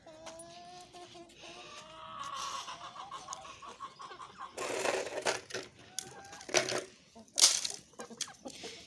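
Rooster and hens in a backyard coop of improved laying chickens, clucking and crowing close by with scattered bursts of scratching and feed clatter, over a busy farmyard background.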